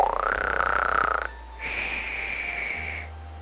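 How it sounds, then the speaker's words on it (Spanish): Cartoon snoring effect for a cow in a children's story: a croaky, rising inhale for about a second, a short pause, then a long steady whistling exhale, loud and alone. "La vaca Valeria ronca muy fuerte."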